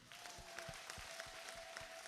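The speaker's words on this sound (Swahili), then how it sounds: "Hebu mpe Bwana makofi tena." A church congregation claps in a quick, even rhythm, the faint beat of the applause carrying on steadily with a soft hum behind it.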